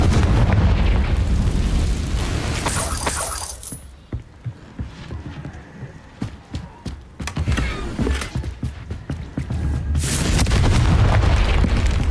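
A Confringo fire spell explodes in the video game Hogwarts Legacy: a loud booming blast that fades into crackling debris and scattered pops, then another roaring burst builds near the end.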